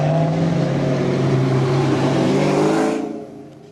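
A Ford Mustang 5.0 Foxbody V8 revs loud and close, a deep sustained rumble climbing in pitch for about three seconds before cutting off and fading quickly.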